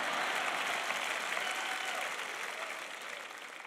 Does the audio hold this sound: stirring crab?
no